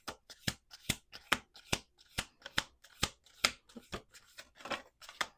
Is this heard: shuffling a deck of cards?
yes